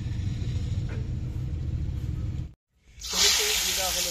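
Bay leaves dropped into hot oil for tempering at an outdoor village picnic cookout, a loud bright sizzle and hiss bursting up after a brief silence, following low rumbling background noise.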